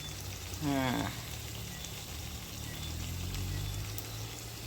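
Saltfish and bell pepper fritters fry in hot oil, giving a steady, soft crackling sizzle with a brief voice-like tone near the start.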